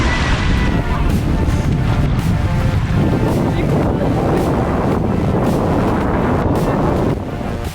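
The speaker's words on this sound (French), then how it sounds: "Beaucoup de vent aujourd'hui" Strong wind by Lake Ontario roars steadily and loudly across the microphone, with a heavy, constant buffeting rush that runs almost the whole time before easing slightly at the end.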